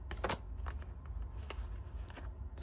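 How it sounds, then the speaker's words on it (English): A deck of playing cards being shuffled close by, with quick riffling bursts and soft flicks repeating unevenly against quiet room background. "So you guys can see how I shuffle on camera."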